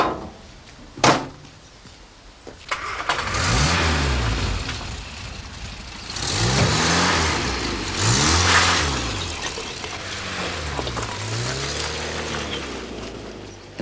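A Mini's engine revs up and eases off several times while the car drives, starting after a door thump. The engine note rises and falls in repeated sweeping surges, close and fairly loud.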